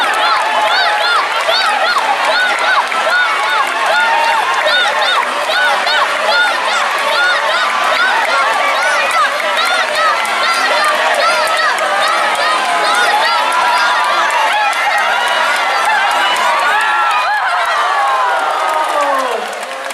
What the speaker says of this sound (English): Everybody start to cheer.